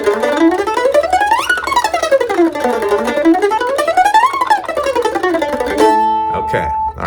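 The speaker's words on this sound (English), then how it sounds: "what is a glissando? It means you're just kind of like, passing through the notes, kind of sliding around a little bit here today" A mandolin plays repeated glissandi, its bright plucked tone sliding smoothly up and down through the notes in sweeping arcs. At the end it settles on a held, ringing note, followed by a brief, softer sound.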